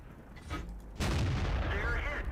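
A tank cannon shot in the video game World of Tanks strikes the front turret plate, a sudden heavy boom followed by a sustained loud roaring rumble, with faint speech beneath.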